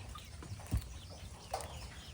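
Backyard chickens being moved into a new coop, a few soft clucks and brief shuffling thumps over a quiet outdoor background.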